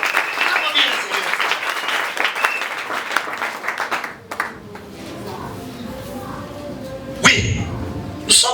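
A church congregation at a Sunday worship service applauds the Lord, dense clapping and cheering filling the first half before fading into quieter room noise with a few scattered sharp sounds.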